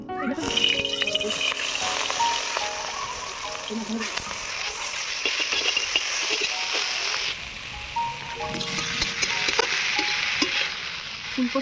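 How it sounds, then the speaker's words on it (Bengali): Cauliflower greens frying in a pan, crackling and sizzling continuously while a utensil stirs and scrapes them with rattling knocks, the cooking noise close and fairly loud from start to finish. "কপি শাকগুলো এবারে ভেজে নেব"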